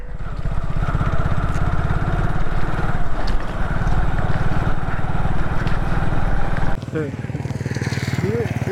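A Hero Super Splendor motorcycle engine running close by, a loud steady rapid thrumming that drops and shifts near the end.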